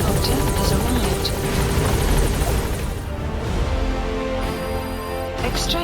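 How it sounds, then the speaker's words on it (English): Rotor noise of a support helicopter arriving in the video game Metal Gear Solid 5: The Phantom Pain, a loud, steady whirring thump that holds throughout, dipping slightly midway, with faint game sounds layered over it. "Support helicopter has arrived."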